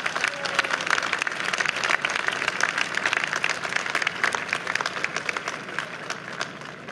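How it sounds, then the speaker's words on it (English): A large outdoor audience claps at the Holodomor Monument dedication in Washington DC, a sustained, even round of applause that holds steady for several seconds before easing slightly. "A big round of applause for your guidance and assistance throughout this process"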